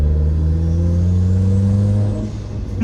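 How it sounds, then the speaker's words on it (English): Engine of a tuned 425 hp Nissan Nismo RS with its exhaust cutout closed, a loud, close steady drone with deep humming tones and faint turbo whine above, easing off near the end. "You hear a ton of turbo noise."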